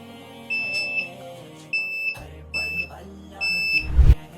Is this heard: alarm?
yes